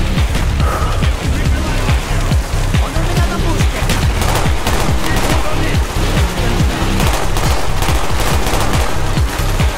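Dense, loud gunfire in the Call of Duty: Black Ops campaign, rapid automatic bursts and heavy shots overlapping nonstop with booming impacts in a chaotic firefight.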